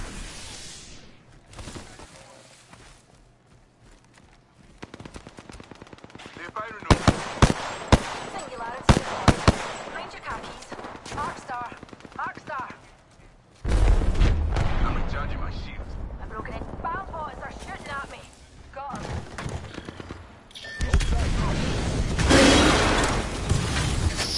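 Gunfire from the battle-royale video game Apex Legends: bursts of sharp cracks and rapid shots crackle across the scene, loud and mid-distance, amid game noise and a player talking.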